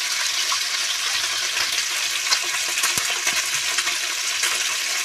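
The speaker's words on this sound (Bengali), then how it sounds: "তো মাছগুলো ভাজা হতে থাক।" Small kachki fish frying in a pan of oil, a close, steady hiss and crackle with occasional sharp pops and light stirring.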